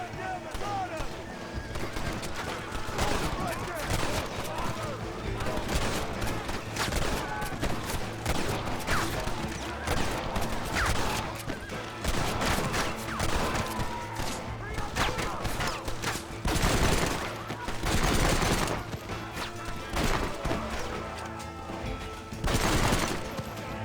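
Gunfire from a federal-issue gun in the Western video game Red Dead Redemption, with repeated shots and bursts running through a dense, loud mix of game sound and voices.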